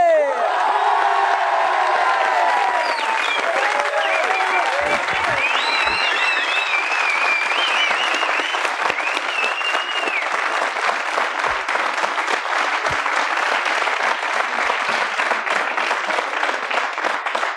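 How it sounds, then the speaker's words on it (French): A French television studio audience applauds loudly and steadily for an arriving guest. Sustained dense clapping is mixed with cheers and a few whoops near the start, and it carries on without break. "je vous prie de vous joindre à moi, public aimé, pour applaudir"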